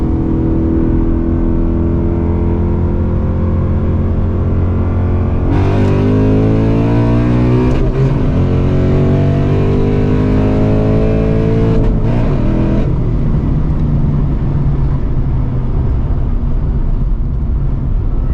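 A cammed Camaro engine idles, then revs up hard twice in a row, rising and falling in pitch, loud and close, before settling back to a rumbling idle.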